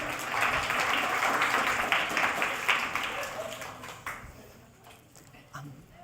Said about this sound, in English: Maybe some applause for these guys